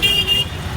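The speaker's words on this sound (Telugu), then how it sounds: "ఎప్పుడైనా హార్న్ సౌండ్స్ కానీ విన్నారా?" In a busy street, a vehicle horn sounds as a steady, fairly loud tone for under a second, layered over a dense rumble of car traffic.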